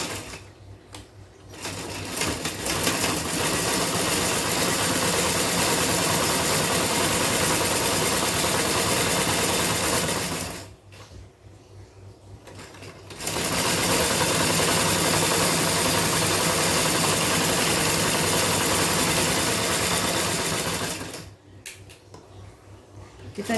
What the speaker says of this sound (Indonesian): Kita jahit dulu untuk talinya, tali tendanya ya.